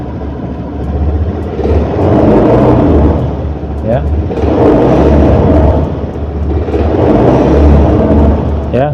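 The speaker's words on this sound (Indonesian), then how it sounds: "saya akan mulai naikkan putaran mesin" A fuel-injected motorcycle engine revs up and eases off in three loud, surging waves over a steady idle rumble, with a brief spoken word early on.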